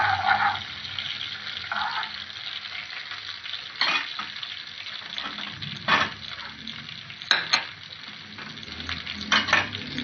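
Crushed garlic and ginger fry in hot oil, a continuous sizzle broken by several louder bursts of stirring and spattering, close and alone without talk.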